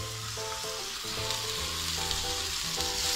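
Tomato and onion fry in oil for an empanada filling, giving a steady close sizzle that hisses continuously over soft background music.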